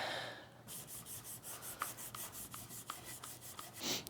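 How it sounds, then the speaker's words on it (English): A red Scotch-Brite pad scrubs dry across a Chrysler 300 differential in quick, steady back-and-forth strokes, a close, soft rasping rhythm that runs after a brief lead-in. "then I'm going to use a piece of red Scotch-Brite"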